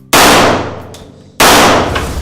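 Two loud, sharp gunshots at a sport shooting club, each a sudden blast trailing off in a long echoing decay, spaced a little over a second apart.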